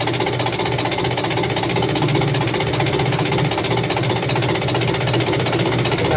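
A HOWO 400 truck diesel engine with an injection pump fault and hard starting runs with a loud, steady, rapid knocking clatter close by, unbroken throughout.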